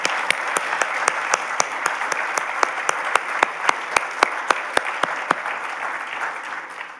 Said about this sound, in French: Alors, bravo à tous nos entrepreneurs. Vous pouvez les applaudir.